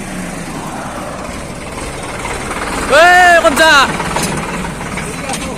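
A tractor engine idles with a steady, continuous rumble, and a voice speaks briefly partway through.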